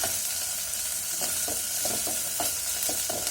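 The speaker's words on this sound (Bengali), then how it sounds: "তারপরে এবারে দুগা কাঁচামরিচ দিলাম, কাঁচামরিচ।" Green chillies fry in hot oil in a pan with a constant close sizzle, punctuated by a series of soft stirring scrapes and pops.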